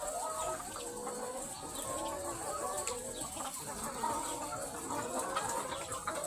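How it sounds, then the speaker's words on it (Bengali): Chickens, a breed that lays many eggs, cluck steadily close by in a noisy coop, with soft overlapping calls and rustling running through the whole stretch. "এগুলো মুরগিকে হাত দিলেই কামড় দেয়"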